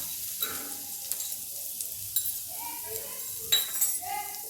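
Green chili thecha fries in oil in a pan with curry leaves and turmeric, sizzling steadily while a spoon scrapes and clinks against the metal in bursts, the frying close and clear under a quiet kitchen background.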